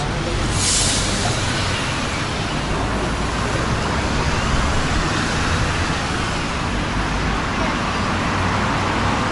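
Steady, loud street traffic on a main road in central Saint Petersburg, a continuous wash of engines and tyres with no clear pauses and a brief hiss near the start.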